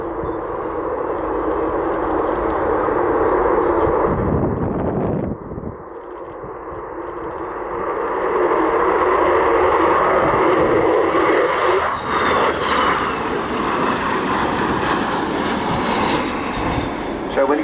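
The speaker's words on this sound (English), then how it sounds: "as Kev brings the Vulcan in along the runway, along the display line" An Avro Vulcan bomber roars past along the runway at the RIAT 2015 air show, with a broad, rumbling engine noise that swells and holds steady for many seconds, loud and sustained.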